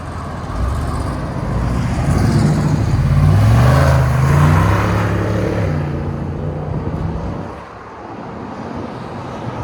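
A Ford F-250 truck with a 6.8L V8 and Carven R-Series exhaust, mid resonator deleted, rumbles steadily and loudly at close range, swelling in the middle and then easing to a lower idle near the end, with no talking.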